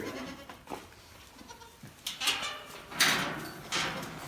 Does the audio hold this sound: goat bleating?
yes